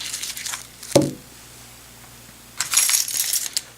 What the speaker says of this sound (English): Then I have just my USN frag coin.